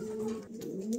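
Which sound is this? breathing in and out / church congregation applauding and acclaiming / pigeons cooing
pigeons cooing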